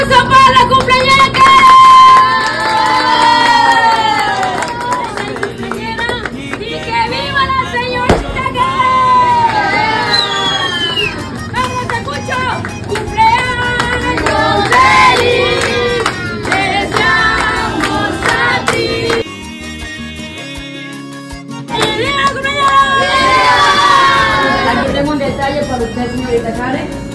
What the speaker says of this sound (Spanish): ¡Un aplauso para la cumpleañera!